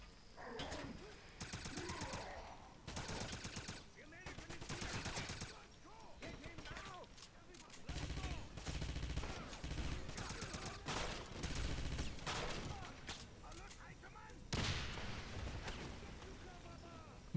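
Repeated bursts of automatic gunfire from the video game Wolfenstein come in short volleys separated by pauses, with heavier, louder firing in the second half and a person talking between the bursts.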